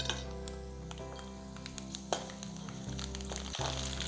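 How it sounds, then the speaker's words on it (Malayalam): Urad dal and mustard seeds fry in hot oil with a continuous sizzle, sparse crackles and the occasional scrape of a spoon, steady and close with no voices. "ഉഴുന്നും കൂടി ഒന്ന് മൂപ്പിച്ചെടുക്കാം നമുക്ക്."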